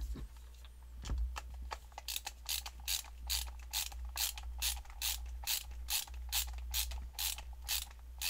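Steady ratcheting clicks from a small screwdriver driving screws back into Koss TD/80 headphones during a repair, a rapid even run of sharp ticks after a few scattered taps, close and fairly loud over a low hum.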